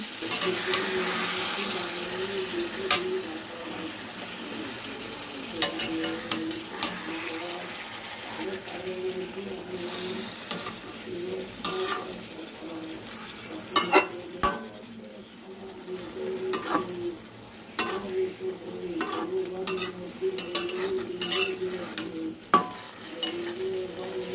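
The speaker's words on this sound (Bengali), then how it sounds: "দিয়ে সামান্য নাড়াচাড়া করে নেব" Pieces of hilsa fish coated in ground mustard paste are stirred in a pan, giving a continuous low sizzle with scraping stirs and occasional sharp clinks across the whole stretch.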